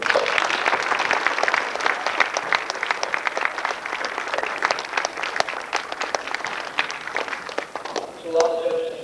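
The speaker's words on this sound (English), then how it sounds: "all the participants and competitors here deserve a round of applause for their hard work" A school audience at an Army Navy Academy Americanism speech competition gives a sustained, loud round of clapping that holds steadily for several seconds, thinning near the end as a voice begins.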